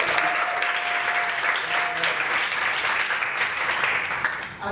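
Sustained audience applause at a transatlantic human-machine improv comedy show, steady dense clapping from a crowd filling the whole stretch and tapering slightly at the end.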